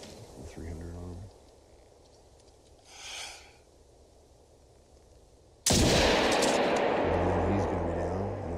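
A rifle fires at a grey wolf in the hunting video game Call of the Wild. One sudden loud blast with a long rumbling tail comes late, after quiet outdoor ambience and a brief soft sound earlier on.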